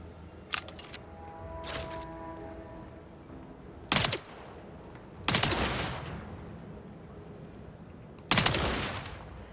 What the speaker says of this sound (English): Silenced machine pistol.